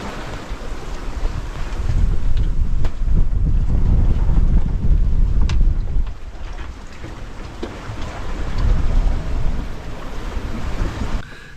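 Steady wind roars and buffets the microphone aboard a sailboat off New Zealand's rugged west coast, with waves and water rushing along the hull, swelling and easing across the whole stretch.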